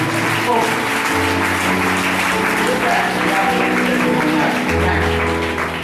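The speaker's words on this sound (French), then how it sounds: "Wow, applaudissons le Seigneur." Congregation at a prophetic church service applauds steadily throughout, a dense wash of many hands clapping with an organ or keyboard chord sustained underneath, loud and unbroken from start to finish.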